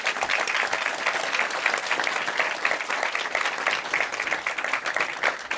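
A conference audience at a JavaScript testing summit gives a speaker a sustained round of applause, a dense, even wash of clapping from a large crowd that holds steady throughout.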